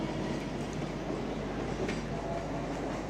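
A Mumbai local EMU train accelerating, heard from inside as a loud, steady rumble with faint wheel clatter and a rising mechanical drone, no voices.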